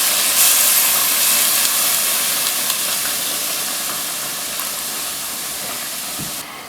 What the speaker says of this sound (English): So I'm adding hot water to it, good few cups to completely cover the meat.